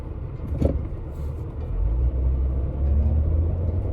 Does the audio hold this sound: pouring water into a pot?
no